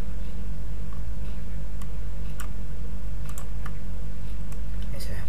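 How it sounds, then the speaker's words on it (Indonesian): Code is typed on a computer keyboard in Microsoft Access, with sparse, irregular key clicks over a steady low electrical hum. "Jadi saya ketikkan di sini ya."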